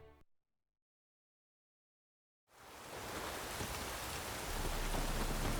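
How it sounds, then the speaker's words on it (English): Steady broadband rain hiss in The Witcher 3: Wild Hunt begins abruptly after a couple of seconds of silence, then holds loud and even to the end with no voices. "It's raining, of course it's going to be damp."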